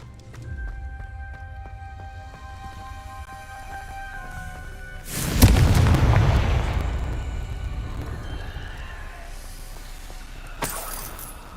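A fiery blast from the Confringo spell in the Hogwarts Legacy video game bursts loudly in the middle, over a soft musical and ambient bed, then trails off into a long rumbling decay, with a brief second crackle near the end.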